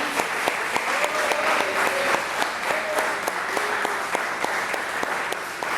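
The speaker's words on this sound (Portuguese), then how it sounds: "Aplaude o Senhor mais uma vez" Church congregation applauding during a Portuguese-language revival service, with steady dense clapping throughout, a few sharper individual claps standing out, and faint voices beneath.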